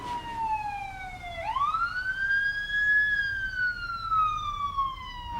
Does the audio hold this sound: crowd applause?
no